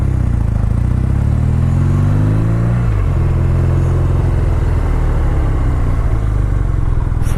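A 2018 BMW R nineT Vintage motorcycle engine revs hard, its pitch climbing then dropping back to a steady loud idle rumble, close up and continuous.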